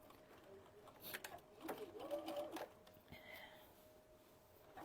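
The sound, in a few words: sewing machine sewing fabric of stuffed chicken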